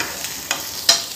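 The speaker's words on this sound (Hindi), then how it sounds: "तो हम अब डाल देते हैं प्याज, इसे भी थोड़ी सी भून लेते हैं" Coarsely cut onion hits a hot pan and starts to fry, producing a brief, close sizzling hiss with a couple of quick stirring scrapes.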